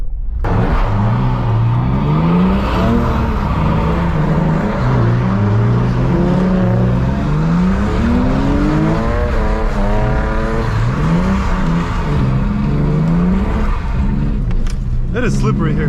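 Car engine revving hard in repeated swooping rises and falls during street drifting, loud and close throughout, with tire noise and a sharp burst near the end.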